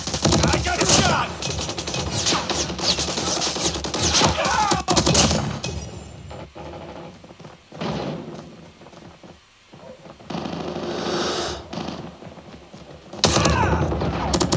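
Gunfire and explosions from a Call of Duty game play through a Bluetooth speaker in a room, with dense crackling bursts and booming blasts and a quieter lull near the middle.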